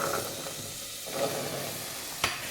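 Tomato masala with soaked chickpeas is stirred in a pan, giving a steady close sizzling hiss with a soft spoon scrape near the end.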